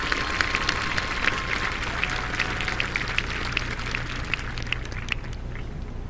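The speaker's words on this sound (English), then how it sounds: "Let's recognize them by giving a round of applause." A graduation ceremony audience applauding the class of 2022, a steady wash of clapping from a large crowd heard at a distance, fairly soft and even throughout.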